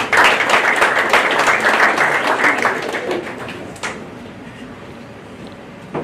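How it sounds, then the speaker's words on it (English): Audience at a baseball finalist luncheon claps in a dense burst that thins after about four seconds, leaving a few scattered claps and a quieter room tail. "let's give Bill another round of applause"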